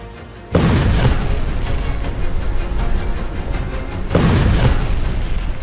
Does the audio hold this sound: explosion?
yes